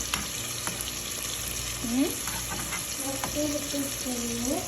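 Chickpeas simmering in a masala in a home kitchen, a steady low sizzle with occasional stirring scrapes, fairly faint, while people talk in the background.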